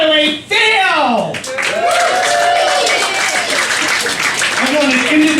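An audience at a comedy show at Cafe Diem claps and cheers in a steady wash of applause, heard beneath a host talking loudly over it.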